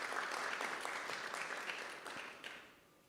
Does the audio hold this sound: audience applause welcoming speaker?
yes